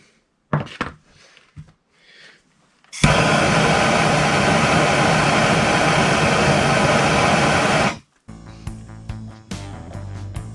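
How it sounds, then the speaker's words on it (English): A torch roars steadily and loud for about five seconds while heating a seized brake nut during a brake job on a Mercedes W124, with brief clanks and handling noises before and after. "I'm going to go get my torch and put a little heat on that nut"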